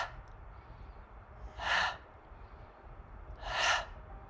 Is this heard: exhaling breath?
yes